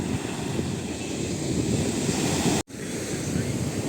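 Steady broadband roar of surf washing onto a Barcelona beach in autumn rain, continuous and fairly loud, with a brief dropout near the end; no voices.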